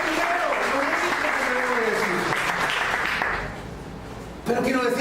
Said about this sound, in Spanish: Denle una ofrenda de palmas también